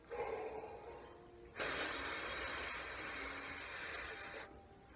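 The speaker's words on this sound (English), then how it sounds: "you're just going to blow out at your hand for 4 counts" A steady breath is blown out at a hand as a trumpet breathing exercise, a soft airy hiss after a short inhale, lasting about three seconds before stopping, close and quiet.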